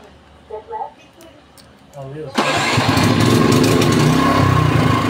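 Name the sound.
Toyohama 7500i inverter portable generator running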